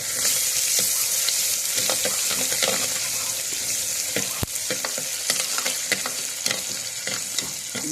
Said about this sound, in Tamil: இப்போ நான் பூண்டு போட்டுக்கிறேன்.